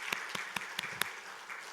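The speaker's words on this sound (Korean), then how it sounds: "격려의 박수를 한번 보내주시죠." Scattered clapping from a modest church congregation, a handful of sharp claps rising above a soft, steady patter of applause.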